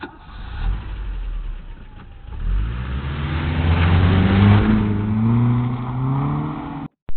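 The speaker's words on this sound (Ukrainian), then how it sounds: "це звук машини." A car engine idles, then revs up loudly with rising pitch, holding a strong roar for a few seconds before cutting off abruptly.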